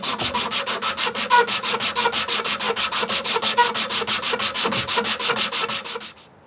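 Abrasive strip sanding a wooden Mora knife handle, a steady back-and-forth rubbing rasp repeated in an even rhythm about five strokes per second, close and loud, stopping at the end.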